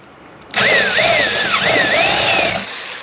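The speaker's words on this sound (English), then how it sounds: "or you just watching me drill holes?" Power drill boring holes in Mustang parts, starting abruptly and running loud for about two seconds with the pitch rising and falling under load, then stopping.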